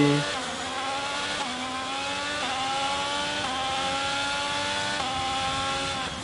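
A Ferrari-engined Formula 1 car in the video game F1 22 screams loudly and close, its engine note climbing through repeated upshifts in a steady rhythm of rising pitch sweeps.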